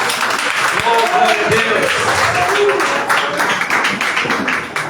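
A congregation at a women's department church service claps loudly and continuously while voices call out praise over the applause.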